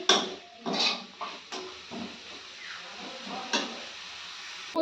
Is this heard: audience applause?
no